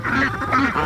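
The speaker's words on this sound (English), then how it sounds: "We're gonna get these ducks moved" Ducks on a homestead quacking in short, close bursts, several calls overlapping over a moment.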